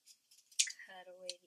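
Scissors snip away excess prosthetic transfer material on skin, a few short close crisp cuts followed by a soft sliding sound.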